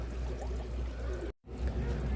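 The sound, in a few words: pouring pre-warmed water into aquarium tank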